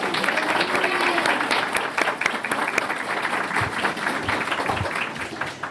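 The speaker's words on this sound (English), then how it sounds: "I think we should give our Employees of the Year one more round of applause." A sustained round of applause from the audience at a regular board meeting, honoring the Employees of the Year. Dense, steady clapping holds for about six seconds with a few scattered cheers mixed in.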